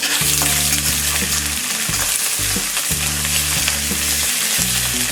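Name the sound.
ginger and green chili frying in a pan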